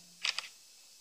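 A Samsung Galaxy S7 Edge camera shutter fires with a quick double click, crisp and close, then quiet.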